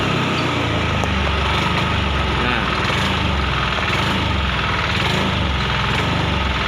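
Honda Beat ESP scooter with a faulty, jumping TPS sensor, engine revving with a steady, busy drone throughout, fluctuating slightly as the throttle is worked, close and loud.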